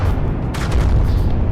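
Cannons firing in the naval combat game From the Depths, a continuous loud booming rumble with a fresh cluster of blasts midway through the short burst.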